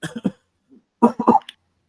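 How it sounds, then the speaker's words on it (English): Two short bursts of coughing from a man, separated by a brief pause, close and fairly loud, with a faint sound between them. "coughing."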